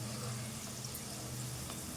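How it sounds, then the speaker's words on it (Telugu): Okra pakoda frying in oil on a low flame, a steady soft sizzle with a faint crackle running continuously and quietly throughout. "ఇదంతా కూడా కొంచెం స్టవ్ సిమ్లో పెట్టుకొని వేపుకోవాలి."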